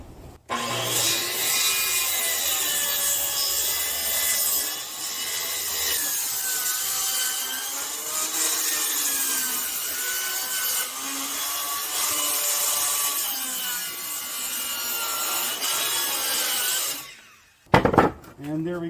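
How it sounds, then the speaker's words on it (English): A circular skill saw cuts through pallet wood with a loud, sustained whining buzz for about seventeen seconds, then spins down. A brief clatter follows. "Then we'll just cut this here with the skill saw."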